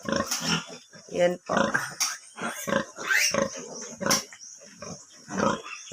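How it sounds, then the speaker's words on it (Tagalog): A litter of eleven newborn piglets on a farm, their squealing grunts and snorts coming close and busy in overlapping bursts, while a person speaks briefly among them. "11 heads po itong buhay na biik."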